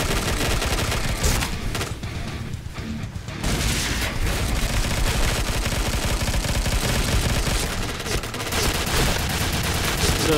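A gun fires in the shooter video game Point Blank, a loud, nearly continuous stream of rapid shots lasting about ten seconds. A brief thinner stretch comes early on before the heavy firing resumes.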